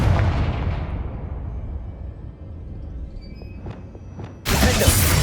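A Confringo blasting spell goes off in the Hogwarts Legacy video game: a deep rumbling blast that fades, a couple of sharp crackles, then a sudden loud burst of noise at the end.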